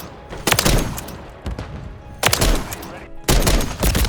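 A burst sniper rifle fires in Modern Warfare 3, four sharp loud shots at roughly one-second intervals, each a quick double crack with a short ringing tail, over constant game background noise.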